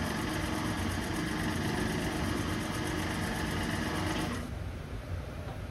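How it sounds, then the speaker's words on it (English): A Tormach 8L benchtop lathe spindle runs with a loud, steady motor whine and buzzing mechanical hum, close by and continuous, then drops off sharply as it stops near the end. "So I'm going to turn on the lathe."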